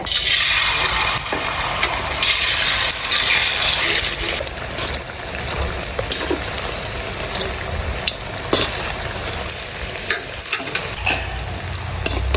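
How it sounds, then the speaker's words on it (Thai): Battered wakame seaweed deep frying in hot oil, a loud, dense, continuous sizzle and bubbling crackle that runs steadily throughout with occasional sharper pops. "น้ำมันร้อนแล้วลงทอดเลย"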